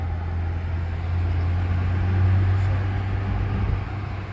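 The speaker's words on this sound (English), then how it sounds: "I'm in fourth gear, which is appropriate for the speed that I'm going" A Honda Civic Type R cruises in fourth gear, its steady low engine drone holding a constant pitch with road noise, swelling slightly midway as it carries speed.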